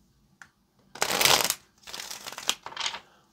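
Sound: tarot cards being shuffled

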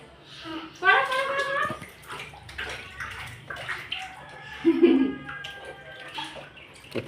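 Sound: baby splashing in bath water

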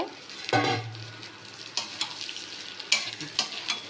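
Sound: basmati rice being fried and stirred in a pan

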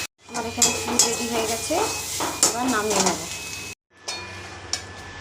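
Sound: mixing gram flour batter with spices

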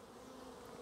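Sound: honey bees flying at a beehive

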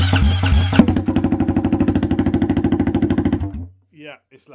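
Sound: KTM 500 EXC motorcycle engine running with no exhaust back box

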